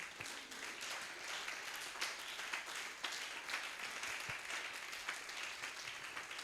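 A church congregation applauds at a Sunday harvest-themed service, with sustained, dense clapping from many hands that continues evenly throughout, with no speech.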